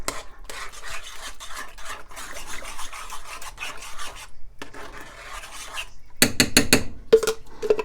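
Ground turkey is stirred in a pot over a medium-low flame after sauce is added, with rough rasping scrapes of a utensil against the pot, a brief pause, then louder clattering strokes near the end.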